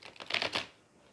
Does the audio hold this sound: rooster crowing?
no